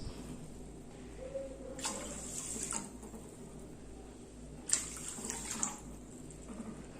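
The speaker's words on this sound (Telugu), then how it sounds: "దీంట్లో మనం ఒక 3 కప్పులు వాటర్ పోసుకుందాం" Water pours into washed moong dal in a pot for chakkera pongali, two distinct splashing pours of about a second each separated by a quiet pause, close and moderately soft.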